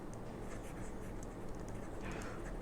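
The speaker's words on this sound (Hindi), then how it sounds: "तो हम लोग यहाँ पर लिख लेते हैं" A pen scratches across paper while a maths problem is worked out by hand, a soft continuous scribbling close to the microphone with small strokes and pauses, no talk over it.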